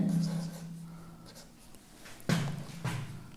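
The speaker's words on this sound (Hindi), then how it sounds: "आगे लिखते हैं" Someone writes on a board during a physics lesson, making quiet scratching strokes, with two sharper taps or strokes near the end over a faint room background and a voice speaking.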